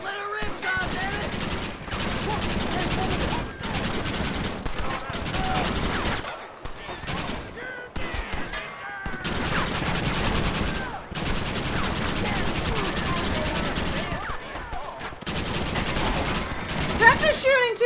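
Bursts of gunfire from the video game Red Dead Redemption crackle in repeated volleys and rapid strings with short gaps between them, loud and close, mixed with game noise and players talking over it.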